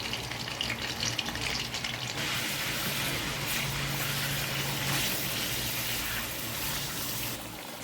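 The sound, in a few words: mutton frying in oil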